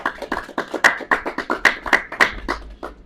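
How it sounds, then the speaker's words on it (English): An audience claps together in steady bursts for about three seconds at a company brand-partnership event for Bwinners Gambia Limited, the claps sharp, fairly close and loud, with no talking over them. "Can we clap for Ayman, please?"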